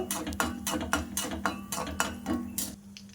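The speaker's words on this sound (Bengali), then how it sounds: "তেল গরম হয়ে গেছে, ওর মধ্যে কিছুটা সরিষা দিয়ে দেব, লঙ্কা কেটে দেব, দিয়ে একটু নাড়াচাড়া করে নেব।" Mustard seeds and chopped green chillies stirred in hot oil in a pan, a quick series of metallic spoon scrapes and clinks against the pan, close and fairly quiet, with no voices.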